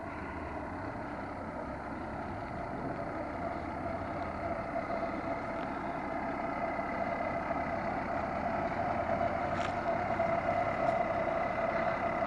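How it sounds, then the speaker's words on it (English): An International Harvester 1086 tractor engine running while working a chisel plow on a farm, a steady diesel drone and rumble heard alone, growing slightly louder toward the end. "A little shot of the tractor here."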